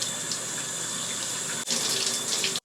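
A faucet runs steadily while soap is rinsed out of locs, a close, hissing stream with a brief break before it continues and then cuts off abruptly.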